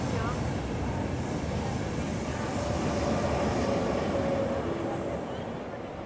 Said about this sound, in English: This is the intercity. This one goes fast.